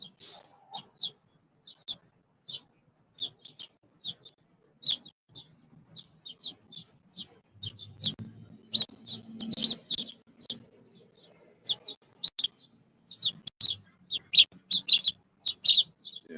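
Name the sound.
birds chirping and singing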